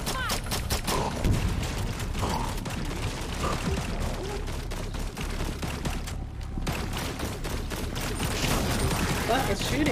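Rapid gunfire in a Rainbow Six Extraction firefight, continuous bursts of automatic shots and clattering mechanisms, with players talking throughout.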